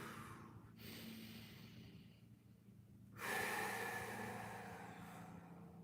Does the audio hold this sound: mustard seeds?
no